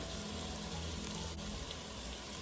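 Steady rush of running tap water over baby carrots in a kitchen sink, a continuous broadband wash with no breaks, moderately close.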